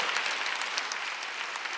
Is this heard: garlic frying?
no